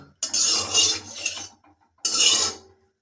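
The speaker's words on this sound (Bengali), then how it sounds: "গরম তেলটাকে এখন আমরা হাতা দিয়ে কড়াই চারদিকে চারদিকে ঘুরিয়ে নেবো" A ladle scrapes and swirls hot oil around a kadai in two bright, rasping strokes. The first runs about a second and a half, then after a short pause a second shorter swirl follows, close up, with no talking.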